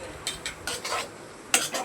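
Cumin and garam masala paste stirred in a hot pan, soft sizzling under a handful of brisk scraping strokes of a spoon against the pan, spaced unevenly.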